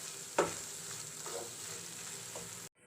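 Samosa filling sizzles and fries in a pan while a spatula scrapes and stirs it, a steady close hiss with a couple of sharper stirring scrapes, ending abruptly.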